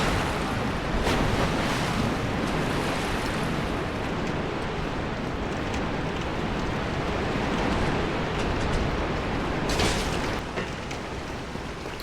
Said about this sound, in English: I could barely hear myself speak over this waterfall